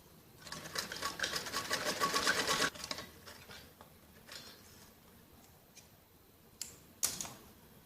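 A sewing machine runs a line of stitching around the neckline of a jacket-style frock, a quick rapid whir for a couple of seconds, then quieter intermittent clicks and short bursts nearby.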